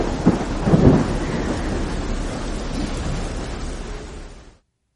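Thunder booms and rolls over a stormy night of wind and rain, a deep rumble swelling near the start and then settling into a steady roar that fades out to silence.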